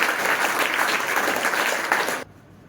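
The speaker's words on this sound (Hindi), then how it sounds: "इनके लिए है ना सारे छात्र थोड़ा जोर से ताली बजाएं।" Students in a coaching class applaud loudly, a dense burst of clapping that continues steadily, then cuts off abruptly into quiet room tone.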